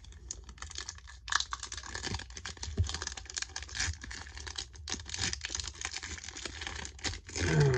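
A Pokémon Celebrations Elite Trainer Box is being opened, with close, busy crinkling, tearing and scratching of packaging on a desk in short irregular bursts. There is no speech.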